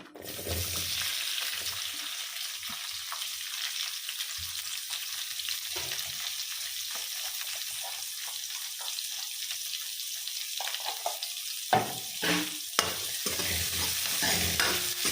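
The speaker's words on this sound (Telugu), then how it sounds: "ఇప్పుడు ఆయిల్ వేడెక్కింది కదా, ఉల్లిపాయలు వేద్దాము" Onions fry in hot oil and ghee with a loud, continuous close-up sizzle. Scraping stir strokes and clatters come through near the end.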